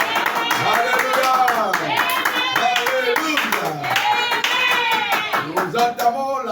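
A church congregation claps steadily through sung praise and acclamation of the Lord. The hand claps sit under loud, continuous singing voices.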